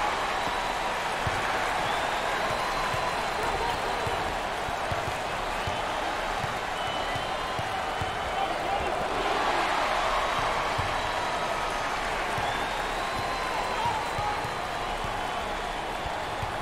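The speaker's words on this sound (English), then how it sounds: "look at this sellout crowd, and they are loving it" Sellout basketball arena crowd at an NCAA tournament game cheering and applauding in a steady, dense roar that fills the space throughout, swelling slightly partway through, with no single voice standing out.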